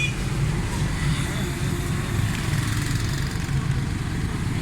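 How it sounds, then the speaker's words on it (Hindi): A Suzuki Khyber pickup engine runs steadily at close range, a low, even rumble with a faint misfire and fuel problem, holding constant without letup. "कमाल साउंड है गाड़ी का"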